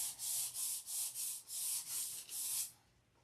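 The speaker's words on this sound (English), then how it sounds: "I'm sanding the leading edge of the stab." Rhythmic back-and-forth sanding of the leading edge of a stabilizer with 1000 grit sandpaper, about nine steady strokes of soft hissing friction, close by, then stopping into quiet.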